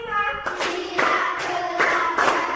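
A classroom of children claps along in counted beats, a few sharp bursts of hand claps following spoken counting, with a voice speaking at the start.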